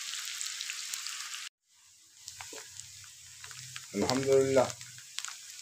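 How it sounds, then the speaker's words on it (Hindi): Sliced onions frying in hot ghee give a dense, hissing sizzle that breaks off briefly, then returns quieter with crackles and someone speaking a short phrase over it. "घी रख दिया गरम हो गया डालते हैं प्याज बिस्मिल्लाह रहमान रहीम प्याज को हल्का सा ब्राउन करेंगे"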